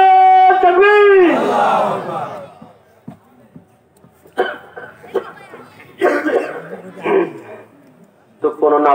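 At a religious gathering on Karbala and the Ahl al-Bayt, a lone voice calls out the takbir and a crowd roars back in unison. Scattered coughs and murmurs follow as a speaker resumes talking.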